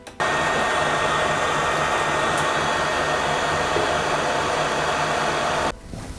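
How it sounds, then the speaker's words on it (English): A heat gun blows steadily to shrink heat shrink tubing over AC line wires while repairing a Vectrex console, a constant close airy roar running unbroken for about five and a half seconds before cutting off. "we're going to put some heat shrink tubing over there just to provide some protection"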